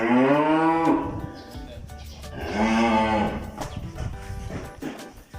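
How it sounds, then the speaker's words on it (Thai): A large Charolais cow moos twice, long and loud, nearby on a farm, with low mechanical background noise. "วัวแม่ลูกนะครับ"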